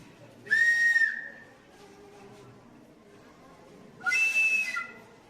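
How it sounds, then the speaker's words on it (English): A CD whistle sounded in a school physics lab gives two sharp, steady high-pitched toots about three seconds apart, each roughly half a second long, with quiet room noise between. "This is a CD whistle."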